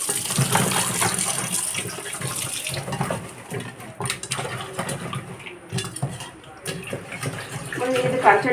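Cleaned, skinned fish is washed in salted water, with running water splashing and swishing in a basin or sink, interrupted by brief pauses and faint clinks of a vessel.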